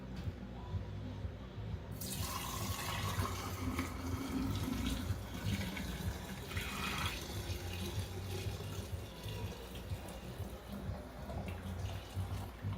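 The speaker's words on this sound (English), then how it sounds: "And I'm hoping that I can pour this decently." Whey from mozzarella making pours in a continuous splashing trickle after a quiet start, steady for several seconds and fairly close.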